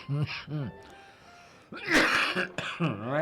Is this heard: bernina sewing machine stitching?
no